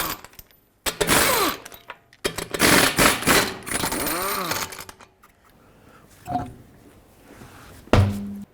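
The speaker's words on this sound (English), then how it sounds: "With a 22mm socket, remove all 5 lug nuts and then pull the wheel off." A 22mm socket spins off the five lug nuts on a 2010-2017 Chevrolet Equinox front wheel: several loud, close mechanical whirring bursts in quick succession, then a quieter stretch and a final short clunk.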